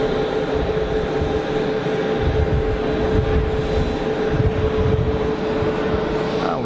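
An aircraft at Geneva Airport gives a steady, continuous engine drone with a constant whine, heard from a distance and unchanging throughout, with no talk.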